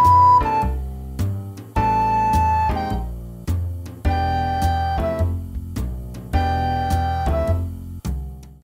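A recorder plays a bouncy, syncopated jazz melody over a crisp accompaniment, the phrases punctuated by sharp, evenly spaced note attacks.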